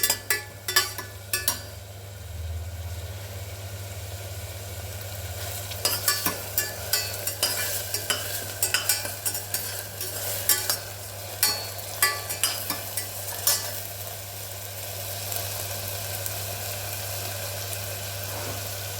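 A single green chili fries in hot oil in a pan for Ramzan nombu kanji, a steady soft sizzle broken by frequent sharp clicks and scrapes of a spoon stirring against the pan, close and without talk.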